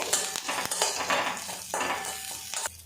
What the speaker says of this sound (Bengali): একসঙ্গে নাড়াচাড়া করে নেব